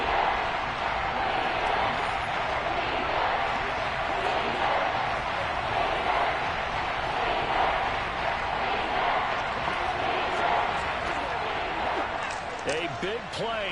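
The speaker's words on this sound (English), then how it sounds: "This crowd dying for a stop." A packed virtual stadium crowd in a Madden 23 football game between the Buccaneers and Chiefs roars steadily and loud throughout, a dense unbroken wash of cheering that thins slightly near the end.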